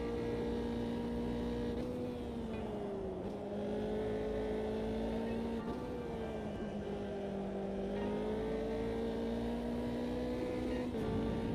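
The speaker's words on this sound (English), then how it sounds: "it feels to me like the tyre scrub sound doesn't match the slide of the car anymore" A racing car engine in a sim racing video game drones steadily with gear changes and pitch shifts, a tyre scrub sound faintly woven underneath, continuous and fairly loud.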